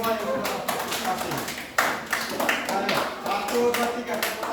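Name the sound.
classroom children clapping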